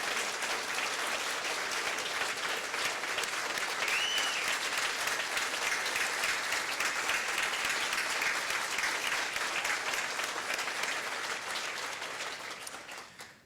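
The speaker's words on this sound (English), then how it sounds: "Would you all mind getting on your feet and giving a rousing round of applause to Governor Scott Walker" Standing audience at a healthcare reform event with Vice President Pence and Governor Scott Walker gives a rousing, sustained round of applause, a thick unbroken wash of clapping that tapers off in the final second.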